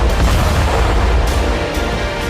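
A large explosion blast in the city of Khmelnytskyi during the Russia-Ukraine war, heard as a loud, sustained low-frequency boom and rumble that fills the whole short stretch without any voices.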